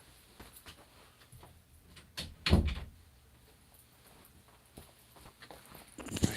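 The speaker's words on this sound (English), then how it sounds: "I gotta close my door here for a second" A room door pushed shut indoors: faint shuffling, then a firm thud of the door closing near the middle, followed by quiet room noise and a few soft handling knocks, with no talk.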